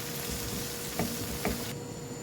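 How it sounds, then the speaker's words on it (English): Spaghetti with anchovies, cherry tomatoes and parsley is stirred in a pan, giving a soft, steady sizzle with a couple of brief utensil knocks before it cuts off. "Then stir it up nicely"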